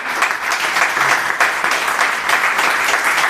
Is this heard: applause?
yes